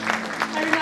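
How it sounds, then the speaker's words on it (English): A burst of crowd applause greets the Northeast states' cultural walk at a college cultural fest, short clapping mixed with the crowd's voices. "Let's give them a big round of applause."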